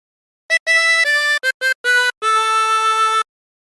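Chromatic harmonica notes carry a phrase of the sea shanty Wellerman: six short, clear, reedy tones followed by one longer held note, alone and close.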